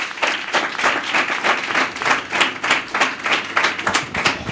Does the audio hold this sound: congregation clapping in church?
yes